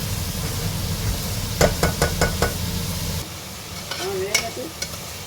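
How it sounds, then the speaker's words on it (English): Chopped ingredients fry in a pan with a constant sizzle while a spoon stirs and knocks against the pan in a quick series of close taps, then the sizzle softens before a few more scrapes. "We should mix it till it becomes little golden brown."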